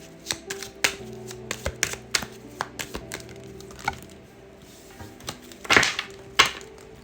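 Tarot cards being shuffled and handled, a string of sharp close clicks and snaps in uneven bursts, then a louder riffle of cards near the end.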